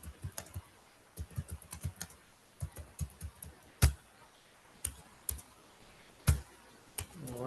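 Computer keyboard typing during a frontend web development coding lesson, irregular close clicks of keys in short bursts with a few louder isolated strikes and pauses between.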